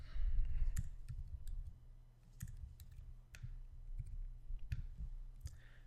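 Sharp computer mouse clicks arrive one at a time in an irregular series, each a crisp, close tick above a low steady room hum, with no talking.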